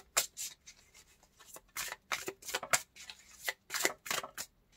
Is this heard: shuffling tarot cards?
yes